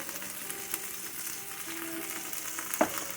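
Food frying in a pan during preparation of Zakarpattia-style Lenten cabbage rolls, with sour cream just added: a soft, steady sizzle with faint clinks, close and fairly quiet, no talking.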